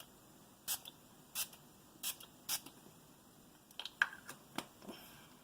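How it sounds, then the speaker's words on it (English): Makeup setting spray comes from a pump bottle in short, sharp hissing bursts, about four spaced pumps and then a quicker cluster of smaller sprays with faint clicks, close and quiet. "we're just going to go ahead and spray"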